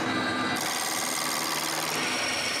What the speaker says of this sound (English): I drill all the holes on the lathe